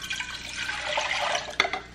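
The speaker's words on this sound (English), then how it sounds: "600 milliliters of filtered water." Filtered water, about 600 millilitres, pours steadily into a pot for making coffee, a continuous close splashing stream with a small knock near the end.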